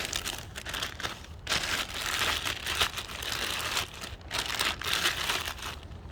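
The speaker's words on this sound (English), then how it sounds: "let's go ahead and pull it out of its little sleeve here" A tall Fox Racing suspension coilover for a Miata is pulled out of its plastic sleeve, giving close, continuous crinkling and rustling of plastic with short pauses and no talking.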